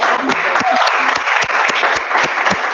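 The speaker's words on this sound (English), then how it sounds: "I think she deserves another applause." Audience applause at a wedding-planning gathering, a dense steady clatter of many hands clapping continuously and fairly close, with no talk over it.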